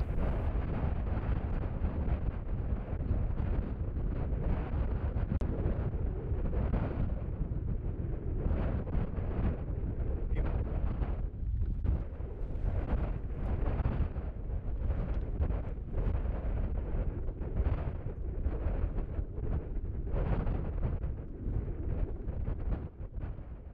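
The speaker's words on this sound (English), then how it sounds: "It's a really quite strong breeze out there" Strong, steady wind roars across a fell summit on Carling Knott in the Loweswater Fells, buffeting the microphone with continuous low rumbling gusts for the whole stretch, with no voices.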